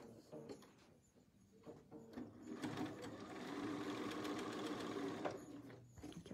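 A sewing machine stitching a zigzag seam on fabric for a zippered box bag, a steady close whirring chatter that builds midway and runs for a few seconds before easing off, with no talk.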